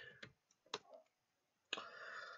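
Keys on a keyboard tapped in a short, quiet burst of separate clicks, a pause, then a final key press followed by a soft hiss.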